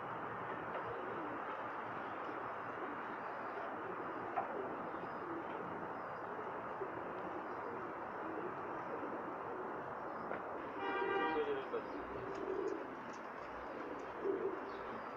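Pakistani pigeons coo softly on a rooftop loft in Jeddah, faint and distant over a steady broadband hum, with a brief chirpy burst near the end.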